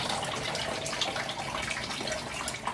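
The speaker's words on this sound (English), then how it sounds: "fill it up, to the top, and then it just drains down and out" Water draining from a semi-hydro plant pot after it is filled to the top, a steady trickling, splashing flow that stays close and even throughout with no talk.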